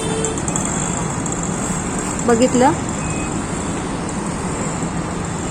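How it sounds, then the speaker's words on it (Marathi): Heavy highway traffic on a main road toward Mumbai and Kalyan, with many vehicles sending up a steady, continuous roar. Someone talks over it throughout. "आणि बघा किती गाड्या चालल्यात"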